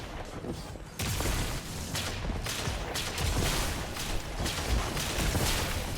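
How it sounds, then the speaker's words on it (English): Rapid weapon fire and explosions from grenades and a Vorpal weapon in the video game Destiny 2, a dense continuous barrage of shots and booms, loud and close throughout. "let's just start by throwing all of our grenades at him"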